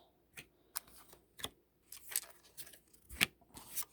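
Tarot cards being shuffled by hand, a series of soft, crisp riffles and slaps in uneven bursts, close and quiet with brief pauses between.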